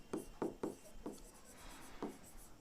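Chalk or marker writing on a classroom board, with a series of sharp, scratchy strokes at an uneven rhythm, close and moderately loud, with no talking.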